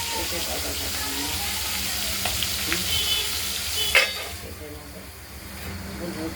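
Freshly cut fish fries in hot oil in a covered pan with potatoes, giving a loud, dense, continuous sizzle with sharp crackles and spits, close up; a voice talks faintly underneath.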